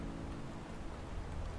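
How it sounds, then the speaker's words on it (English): Gentle rain falling on the glass roof of a room at night, a soft, steady patter that stays faint and even throughout. "The gentle fall of rain upon its roof"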